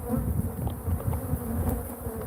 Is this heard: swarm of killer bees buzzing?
yes